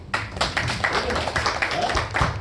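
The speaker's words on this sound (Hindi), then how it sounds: "तो ताली बन सकती है उसके लिए।" An audience at an indoor meeting claps steadily, a dense run of many hands close by, continuing without pause throughout.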